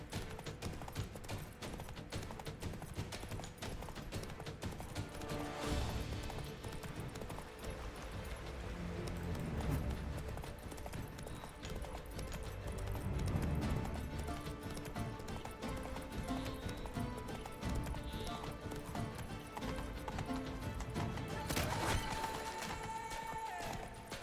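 Roach, a horse in The Witcher 3, gallops with steady clip-clop hoofbeats under dense game music and ambient effects, holding a continuous loud pace throughout.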